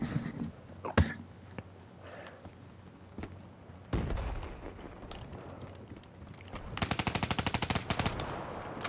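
Gunfire in Call of Duty Black Ops 3, a few scattered single shots followed by a rapid rattling burst near the end, fairly quiet overall with a brief exclamation early on.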